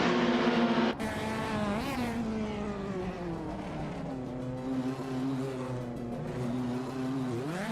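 Race cars launch from the grid at Aviano Short Track in a racing video game, a classic 1989 Audi 94 MCG Teal on pole, making a loud, continuous engine roar that rises and wavers in pitch as the pack accelerates.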